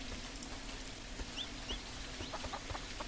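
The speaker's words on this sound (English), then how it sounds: "Yeah, baby chicken!" Soft chicken clucks and small chirps from a baby chicken in the farming game Dinkum, a few brief calls over a quiet ambient background.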